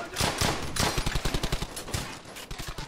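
Gunfire from the World War II video game Brothers in Arms: Hell's Highway comes as loud overlapping bursts of rapid shots, with a dense fusillade giving way to rhythmic automatic-fire pulses.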